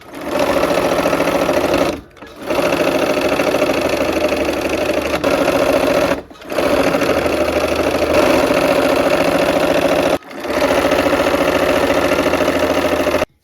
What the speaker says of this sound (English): I'm sewing the side borders on it